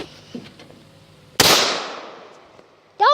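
A single sharp, loud AR-15 rifle shot cracks outdoors, its report decaying over about a second and a half, followed by a short loud burst of another sound at the end.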